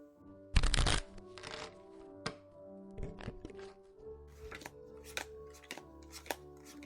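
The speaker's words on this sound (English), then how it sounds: "Jenny, be a dear and deal the cards" Playing cards dealt one after another at a card game, giving a near, crisp sequence of snaps, flicks and soft slaps on a table, with one loud riffle-like burst early on and quieter irregular taps after.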